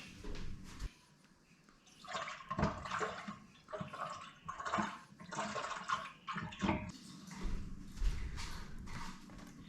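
Garfish fillets are rinsed by hand in a bucket of salty water, making repeated close splashing and sloshing bursts with short pauses between them. No one speaks.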